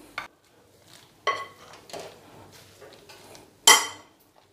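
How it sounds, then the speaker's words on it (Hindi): Beef shami kabab mixture and egg being mixed in a bowl, with scattered scrapes and clinks of a utensil against the dish, close and sparse, one louder knock near the end. "अभी इसे अच्छे से हम मिक्स कर लेंगे।"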